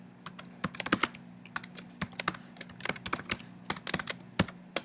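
Rapid, irregular keystrokes on a computer keyboard while a function is typed out, close and fairly quiet, with no voices.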